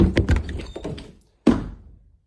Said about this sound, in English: every single night at the same time this knocking starts